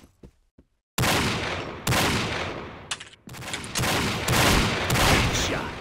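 A Desert Eagle pistol fires in the Combat Arms video game, with loud, dense bursts of gunfire that keep going almost without pause after a short quiet start.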